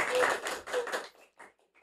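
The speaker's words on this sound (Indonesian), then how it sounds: "Tepuk tangan." A brief burst of applause from a small crowd, clapping quickly fading out into a few scattered claps.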